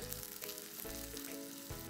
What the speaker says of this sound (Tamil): ஓரளவுக்கு பொன்னிறமாக வறுக்கட்டும் நல்லா